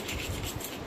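A brush scrubbing a plastic comb, giving a steady close rasping scratch with rhythmic strokes throughout the short moment.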